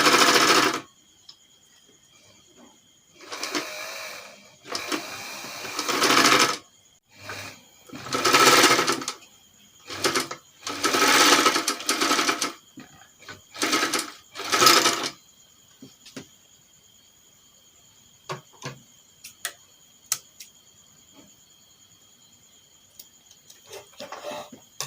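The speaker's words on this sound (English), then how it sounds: "So while sewing, you still want to be pushing off any excess fabric you have." A sewing machine stitches fabric for homemade shoulder pads in several bursts of steady, loud whirring, separated by pauses and a few small clicks as the fabric is repositioned, then a quieter tail with faint hum.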